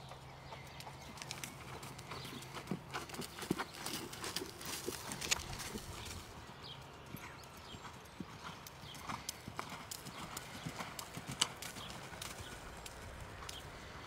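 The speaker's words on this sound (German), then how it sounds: "Hier reitet er mit jungen Pferden" Hooves of young horses clip-clopping steadily as they are ridden at an equestrian yard used for dressage and jumping training, with an occasional whinny in the background and continuous outdoor ambience throughout.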